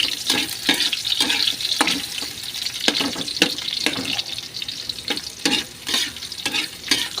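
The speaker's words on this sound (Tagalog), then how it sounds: "Lalagay ko na itong sibuyas." Onion going into a frying pan for adobo with long beans, giving a steady sizzle with repeated stirring and scraping clicks throughout, close and fairly loud, no talking.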